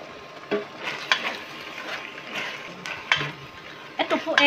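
Creamy canned tuna carbonara sauce with pepper simmers in a pan, giving a soft bubbling hiss broken by spoon scrapes and light clinks against the pan.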